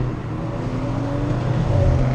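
A loud Dodge Magnum engine rumbling past on the road, a deep steady roar that swells slightly toward the end, heard close by.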